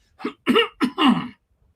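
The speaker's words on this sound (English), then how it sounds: "Let me clear my throat." A man clears his throat in four rough, closely spaced bursts, close and moderately loud, then falls quiet.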